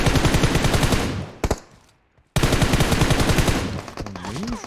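Loud automatic gunfire from a rooftop in PUBG Mobile rattles in dense bursts, drops to a brief quiet gap, then resumes just as heavily.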